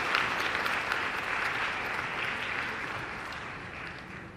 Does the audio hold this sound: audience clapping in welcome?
yes